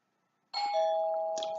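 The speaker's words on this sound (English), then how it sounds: "So that's my doorbell." A home doorbell gives one clear electronic chime that starts after a moment of silence and rings on as a sustained tone, fairly quiet and alone.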